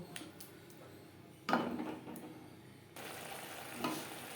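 Spice paste fries in a pan over a low-medium flame for a Bengali yogurt fish curry. A soft, steady sizzle runs under occasional spatula scrapes and stirs, with a louder stirring burst partway through and no talking.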